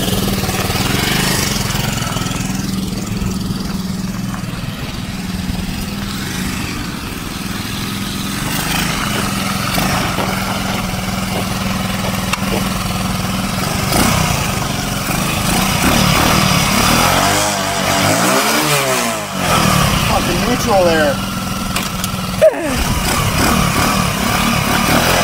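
A small 2007 Baja Comet motorcycle with a Honda CT90 clone engine runs at a high, steady rev, a loud continuous buzzing drone that dips briefly near the end before resuming, with no talk.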